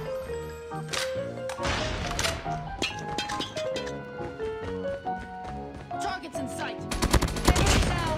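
KSP-45 gunfire in a mobile shooter game, rapid bursts of close shots in quick clusters over busy game sound, ending in a louder, denser volley. A player talks briefly between bursts.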